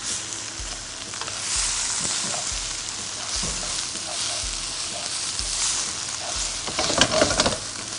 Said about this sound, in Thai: ผมก็จะใส่ไก่ที่เราหั่นเอาไว้ครับ ปุ๊บ เกี่ยให้เขาทั่ว ๆ ได้รับความร้อนทั่วๆนะครับ